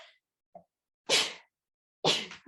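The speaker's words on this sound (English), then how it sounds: "I'm going to sneeze real quick." Two sharp sneezes burst out about a second apart during a podcast recording, each preceded by a quiet intake, with silence between.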